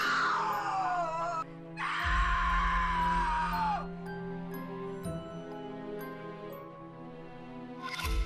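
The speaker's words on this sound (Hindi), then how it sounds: "एक रात मारिया अपना आपा खो बैठी और गुस्से में चिल्लाने लगी" A woman screams in anger in a dark animated tale, with long wailing cries rising and falling, backed by a low eerie drone and a break between the two loud outbursts.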